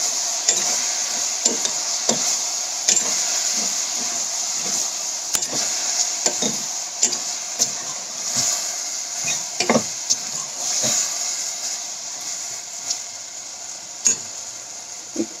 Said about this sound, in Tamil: போட்டு கிளறிக்கணும்.